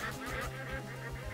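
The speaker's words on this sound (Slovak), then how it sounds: "Kačica, kačica, kačica," Honking waterfowl calls in the Legend of the Brofist video game, a short series of loud nasal quacks repeating rapidly over a low background hum with no talk.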